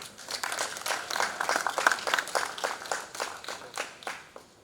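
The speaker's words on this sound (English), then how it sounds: "please put your hands together" Audience applause for the Director General of the Nigerian Institute of International Affairs at a diplomacy master class, a steady patter of many hands clapping at moderate level throughout.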